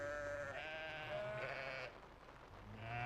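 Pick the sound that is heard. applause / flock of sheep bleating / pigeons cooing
flock of sheep bleating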